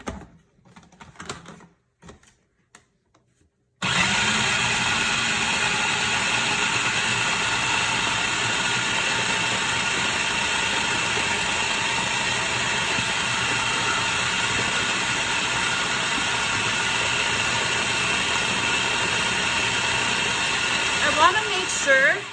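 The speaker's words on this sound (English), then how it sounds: "And then we're going to puree this together." A blender purees a pumpkin pie-style mixture with vanilla, pie spice and an egg, starting after a few seconds of quiet handling and then running as a steady, loud, continuous whir to the end.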